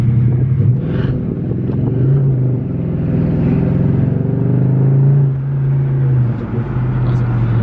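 A Dodge Charger SRT8 engine rumbles and revs up close, its deep growl rising and falling over several seconds.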